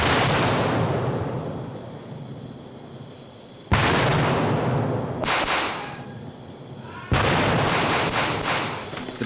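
Gunfire and explosions hit a jungle base camp, with three heavy booming blasts spaced a few seconds apart, each loud and sudden, trailing into rumbling decay with crackles of shots between them.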